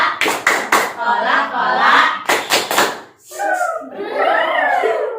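A primary school class claps in quick rhythmic bursts, a few sharp claps in a row, alternating with voices chanting "Coca-Cola" together.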